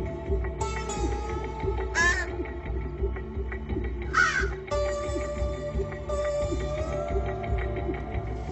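Young crows caw from a nest area in Seattle, several harsh, close calls in short bursts over a steady low background rumble.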